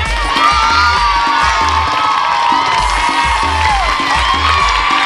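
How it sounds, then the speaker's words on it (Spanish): Studio audience on a TV show cheering, whooping and applauding loudly over a thumping music beat, a continuous roar of voices throughout. "¡Aplauso!"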